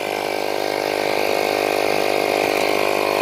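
A tire inflation kit compressor fills a punctured 2020 Ford Fusion tire with a steady, loud, continuous mechanical buzz and hum that runs unbroken from start to end.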